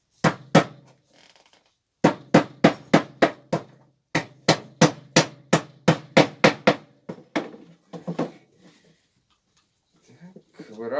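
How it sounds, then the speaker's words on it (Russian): Small nails are hammered into a rabbit feeder with a rapid string of sharp, loud hammer blows, near and evenly spaced, with a few lighter taps and pauses between them. "забиваем в них гвоздики."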